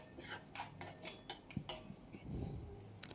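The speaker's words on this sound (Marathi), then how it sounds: "सतत असं आपल्याला तुपामध्ये रवा परतून घ्यायचा आहे जेणेकरून तो खाली लागणार नाही" Semolina roasted and stirred in ghee in a pan on a medium flame, a metal spoon clinking and scraping against the pan in quick irregular taps, close and fairly soft, with no one talking.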